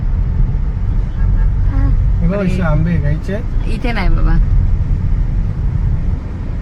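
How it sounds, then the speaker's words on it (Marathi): Road traffic hums as a steady, loud low rumble of passing vehicles throughout, with a person talking briefly over it in the middle. "ट्रॅफिक आहे इथे थोडीफार."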